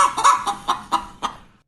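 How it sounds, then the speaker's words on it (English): A chicken clucks in a short close run of about six sharp, evenly spaced calls, loud and clear against a quiet background, tapering off at the end. "AI says that is a happy chicken"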